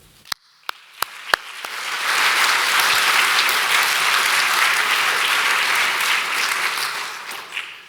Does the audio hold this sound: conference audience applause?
yes